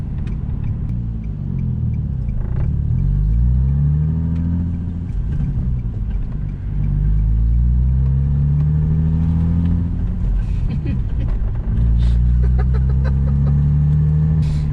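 A car engine with a vacuum leak hums and rumbles steadily while driving, with the pitch rising and falling as it accelerates and shifts, heard from inside the vehicle.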